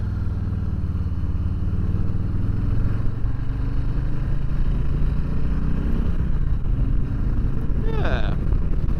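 A 2019 Harley-Davidson Low Rider cruiser rumbles steadily at riding speed, its low engine drone constant and close throughout, with wind noise and a brief higher whine near the end while a rider talks over it.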